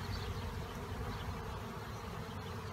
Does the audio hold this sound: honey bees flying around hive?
yes